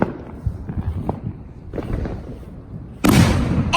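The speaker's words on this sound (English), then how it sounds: "That was such a crazy bang." A Fourth of July firework goes off with one sudden loud bang near the end, after a stretch of quieter rumbling background noise at a house.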